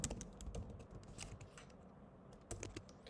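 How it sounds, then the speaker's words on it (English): Typing on a computer keyboard while writing Python code, a quiet, irregular run of soft key clicks with brief bursts and pauses, close up with no talking. "So if I type something here, let's say"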